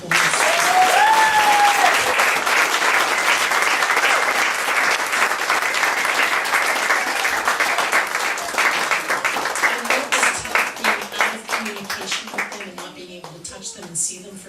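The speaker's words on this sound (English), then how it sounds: "you need to give them a round of applause" An audience at an elementary school show choir performance claps loudly and steadily for a child choir, and the clapping thins out toward the end while a voice is heard faintly.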